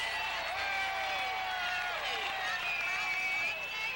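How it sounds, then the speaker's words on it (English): Crowd noise at a 1995 college football game between Georgia Southern and Montana, a steady loud roar filling the stadium with whistles and shouts rising above it throughout. "it's a wonderful crowd, and they're really into the game"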